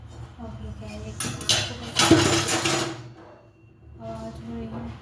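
Kitchen dishes, pots and pans clink and clatter while being handled for washing late at night, with bursts of metal chinking in the middle and a voice speaking over parts of it.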